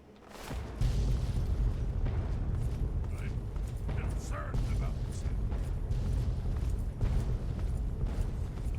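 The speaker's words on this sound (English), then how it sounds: "Explosions!" Explosions in Fallout 3, a sustained low booming roar with scattered bursts and crackles that swell after a quiet start, a voice talking over the din.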